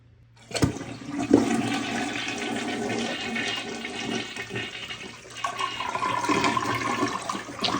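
A toilet tank drains as it flushes with a sharp start, then a long gurgling rush of water drains steadily, swelling again near the end, close and loud.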